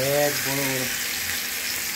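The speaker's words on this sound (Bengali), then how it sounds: "শুরু হয়ে গেছে ভাজা চিকেন ফ্রাই" Hot oil sizzling and crackling steadily as rohu fish fries, a bright hiss that fills the clip after a brief voiced tone at the start.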